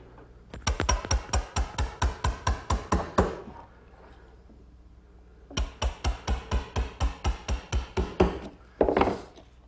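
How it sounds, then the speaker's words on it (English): A sharp chisel is driven into a wooden beam to finish a mortise, giving two runs of quick, evenly spaced knocking strikes separated by a pause, close and crisp. "I'll rough it out, and then I'll finish it up with a nice sharp chisel."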